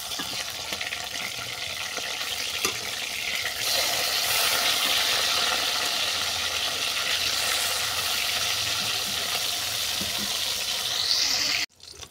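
Katla fish frying on its second side in hot oil, a continuous close sizzle that swells after a few seconds and runs steadily before cutting off abruptly near the end.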